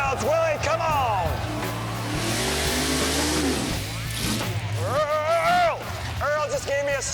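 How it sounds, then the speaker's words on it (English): Drag race cars doing burnouts in a Mopar versus Chevy pinks final, engines roaring and revving loudly over a constant rumble with long rising and falling screams, a crowd announcer and voices talking over it throughout. "let's see some burnouts, Willie"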